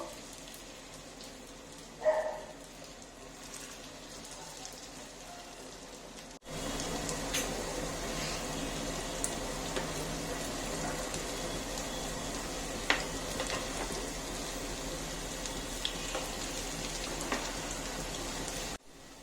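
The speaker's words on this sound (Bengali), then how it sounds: "যেহেতু পটল রয়েছে সেহেতু আমাদের একটু বেশিক্ষণ ভাজতে হবে ভাজাটা যেন ভালো হয় একটু লাল লাল করে দু পিঠ যেন সুন্দর করে ভাজা হয়" Pointed gourd koftas frying in hot mustard oil, a quiet steady sizzle that swells after a faint lead-in and carries on evenly with no talk.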